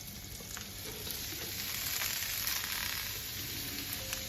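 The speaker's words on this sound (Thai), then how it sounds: "แล้วเราก็จะใส่ผัก ที่เรา ลวกไว้เมื่อกี้ค่ะลงไปค่ะ" Blanched vegetables and shrimp stir-fry in a hot pan, giving a steady close sizzle and crackle with faint scraping and no talk.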